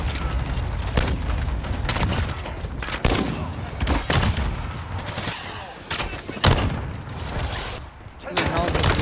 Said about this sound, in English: Who the hell is this bitch shooting?